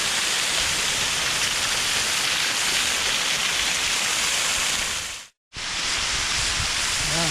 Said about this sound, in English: So here's the other waterfall.